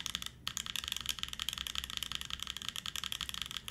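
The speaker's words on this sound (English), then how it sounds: "It's a little bit contrasted to the way the space bar sounds. It's very clean though. Much sharper with the ABS." Rapid, crisp typing on a mechanical keyboard with flash switches and ABS keycaps, a close, dense run of sharp clacks at a quick steady rhythm, alone without speech.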